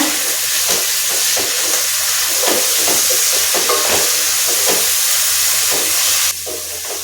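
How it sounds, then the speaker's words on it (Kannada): Fenugreek leaves fry in oil in a pan with a loud, steady sizzle and hiss, broken by faint stirring scrapes, and no one speaks over it. "ಈಗ ಹಚ್ಚಿಟ್ಕೊಂಡಿರೋಂಥ ಮೆಂತ್ಯ ಸೊಪ್ಪು ಹಾಕ್ತೀನಿ ಸ್ವಲ್ಪ ಎಣ್ಣೆಯಲ್ಲಿ ಬಾಡಿಸ್ಕೊಳ್ಳೋಣ"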